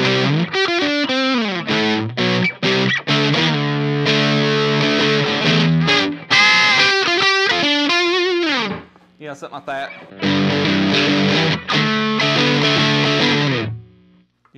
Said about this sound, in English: It's a great sounding overdrive. You really get some nice blues and southern rock out of it.